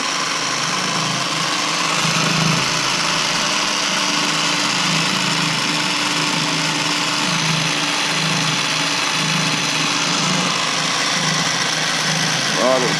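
A vintage Traxxas Hawk 2 RC car engine runs steadily with a high, buzzing tone, loud and close, holding an even idle for the whole stretch with no change in pitch.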